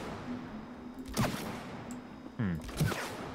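Gunfire from the video game It Takes Two as a player shoots at a can, with a few sharp, punchy shots and ringing in-game effects spaced over a steady game soundtrack.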